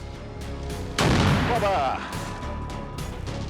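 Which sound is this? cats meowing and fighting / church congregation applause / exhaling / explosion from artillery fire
explosion from artillery fire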